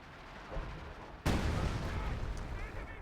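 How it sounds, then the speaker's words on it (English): Howitzers fire on a base in the strategy game Company of Heroes 2, one sudden heavy boom cutting in and rolling into a sustained rumble of battle noise, with faint background clatter before it. "Howitzers firing on the base."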